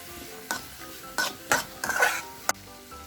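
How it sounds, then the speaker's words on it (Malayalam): Chopped tomato sautés in a pan under a soft background sizzle, broken by a few distinct scrapes and clinks as a spoon stirs against the pan, quiet and close with no voices. "അത് ചേർത്ത് നന്നായിട്ട് നമുക്കൊന്ന് വഴറ്റി കൊടുക്കാം. ഈ തക്കാളിയൊക്കെ ഒന്ന് വേവുന്ന വരെ."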